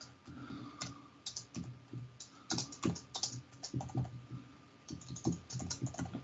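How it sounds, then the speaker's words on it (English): Typing on a computer keyboard during a software presentation: a steady run of close, crisp keystrokes with irregular rhythm and brief pauses, heard alone without talking. "Typing in presentations is always challenging"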